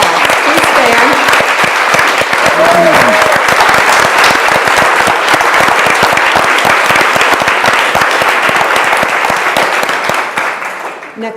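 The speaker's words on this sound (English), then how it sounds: "I'd like you to join me in offering a round of Astoria of applause" An audience at an art talk gives a long, loud, sustained round of applause with dense, even clapping that tapers off at the end, while brief voices are faintly heard within it.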